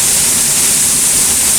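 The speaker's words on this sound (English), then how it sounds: "So now we're behind the waterfall," Eas Mor waterfall heard from right behind the falling water, a loud, dense, unbroken hiss and rush with no voices.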